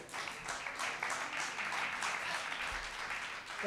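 A crowd applauds, many hands clapping in a steady, even patter that holds for a few seconds.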